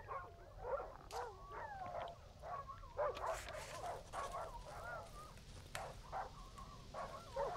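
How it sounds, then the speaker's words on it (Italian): In the video game Darkwood, dogs whimper and whine in a steady stream of thin, wavering cries and yelps over a low, rough background rumble. The sound is moderately faint and continues throughout. "a sentire queste lamentele di cani che stanno male"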